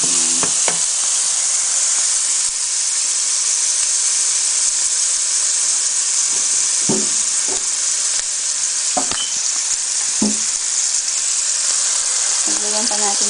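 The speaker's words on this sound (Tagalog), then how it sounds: "Gigisa ko lang maigi ha" Olive oil sizzles steadily in an indoor pan as food is sautéed for estofado, a constant close hiss broken by a few sharp scrapes and stirring knocks.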